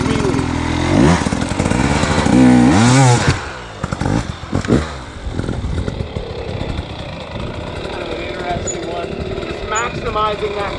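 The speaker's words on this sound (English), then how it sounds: "I drive my front tire into the obstacle, I rebound off the obstacle coming back." A hard enduro dirt bike revving as its front tire drives into an obstacle and rebounds back, loud close engine bursts rising and falling in pitch, then a rougher idling clatter, with someone talking over much of it.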